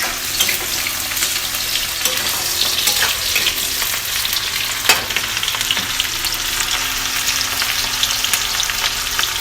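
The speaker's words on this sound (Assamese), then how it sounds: "তেল গৰম হোৱাৰ লগে লগে এই পিঁয়াজ দিছোঁ।" Onions go into hot oil in a pan for a village-style Assamese chicken curry and fry with a loud, continuous sizzle and crackle, with occasional stirring scrapes.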